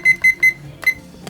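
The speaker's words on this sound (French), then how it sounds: "Donc je mets mon petit chronomètre" A small timer being set gives three quick electronic beeps in an even rhythm, then a short pause and a fourth beep, close and clear against a quiet background.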